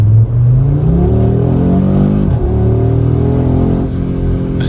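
A 2024 Audi RS3 engine accelerates hard under turbo boost, loud and close from inside the car, its tone climbing steadily through the gears with brief dips at each shift.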